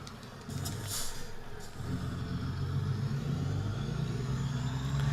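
A semi truck engine in American Truck Simulator drones steadily at mid volume, a low rumble that rises slightly and holds a constant hum, with a brief lull before the engine settles into a sustained tone.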